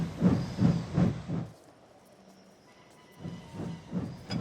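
A steam engine hisses softly in a short, quiet burst, framed by muffled rhythmic chuffing from the locomotive before and after.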